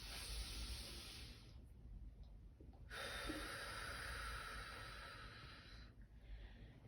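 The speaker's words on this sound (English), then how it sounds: "breathing in deep, making your belly rise up, making your hands rise up as you fill your belly with air, and then you breathe out" Slow, deep breaths in and out through the nose during a relaxation exercise, two long airy inhalations or exhalations separated by brief pauses, close and alone with no talking.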